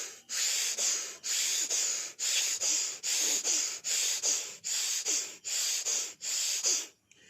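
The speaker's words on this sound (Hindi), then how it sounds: "उसमें है कि सांस को अंदर डालना है और बाहर निकालना है" Bhastrika breathing, forceful rhythmic inhales and exhales through the nose, about a dozen loud, close, even bursts in a steady fast cycle, alone with no talking, ending in a brief pause.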